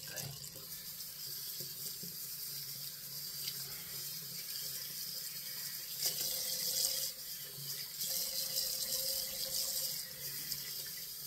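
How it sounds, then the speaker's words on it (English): Tap water runs steadily into a sink while a shaving brush is rinsed of leftover lather, a continuous close splashing hiss with small shifts in flow and no talking over it. "I'm going to wash out this brush because I want you to see the tip."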